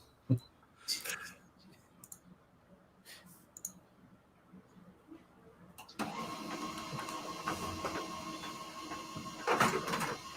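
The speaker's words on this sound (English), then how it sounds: "Is that a printer?" A printer starts up partway through, chattering and whirring steadily as it feeds and prints pages, with scattered clicks and handling sounds before it begins.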